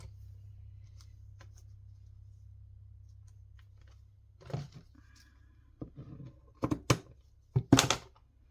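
A strip of tape gets cut by hand at a craft table, a few sharp snips and crackles near the end after a low steady hum, close and clear with no talking.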